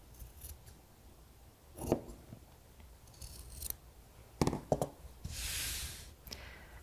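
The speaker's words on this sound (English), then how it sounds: "So you want to trim close to, but not too close to the stitching line." Scissors trimming fabric near a stitched seam while sewing a page corner bookmark: a handful of short, crisp snips in scattered pairs and singles, close and quiet with pauses between cuts.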